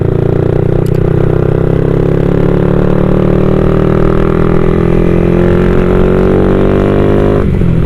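A motorcycle fitted with a loud stainless steel exhaust pipe revs hard and climbs steadily in pitch for several seconds, then drops off sharply near the end, close and loud.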